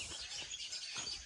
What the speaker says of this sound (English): I hear you, birds.